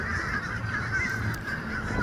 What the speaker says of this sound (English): Look at all these birds. Birds on a wire, and more birds